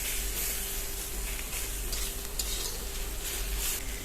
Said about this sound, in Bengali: এই যে খুন্তির আগা দিয়ে চাপছি দেখুন।